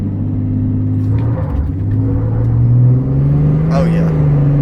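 Diesel truck with a pedal controller accelerating hard from a dead stop, deep engine rumble rising steadily in pitch as it revs, loud and close, with a voice talking over it.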